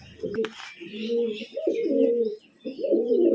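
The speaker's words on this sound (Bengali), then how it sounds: "নটটা ডাকছে হুঁ হুঁ করছে" A male biscuit-coloured Murshidabad pigeon coos close by in repeated low throaty phrases with brief pauses, kept indoors with its mate.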